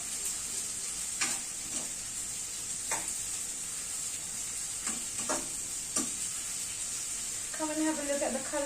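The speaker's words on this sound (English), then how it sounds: "we just keep sauteing" Onions and sweet peppers sauté in a pan with a steady soft sizzle, broken by a few scattered stirring scrapes and clicks, close and moderately quiet, with no voices.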